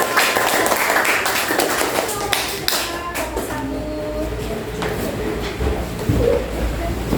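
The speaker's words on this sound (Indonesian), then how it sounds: "Tepuk tangan dulu untuk kelompok putra." A classroom full of people claps in a dense, steady patter for a boys' group after their presentation, with children's voices chattering faintly underneath.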